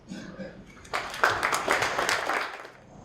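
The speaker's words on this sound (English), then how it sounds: "let's make sure we give him a round of applause" An audience at a New York startup pitch night breaks into applause, a dense wash of clapping that swells after the first second and holds steady, with faint talk beneath it at the start.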